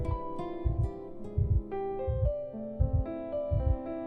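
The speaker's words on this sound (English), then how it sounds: "heartbeat raced beneath my fingertips, every pulse strong, clear, beating for me alone" Rhythmic heartbeat thumps in the Snowbreak: Containment Zone video game, paired double beats repeating steadily at close range over soft sustained music tones.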